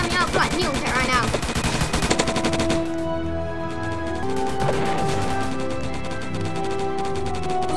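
Rapid gunfire from a Roblox zombie shooter, dense repeated shots rattling over game music and sound effects, loud and close throughout, with a voice briefly heard among the action.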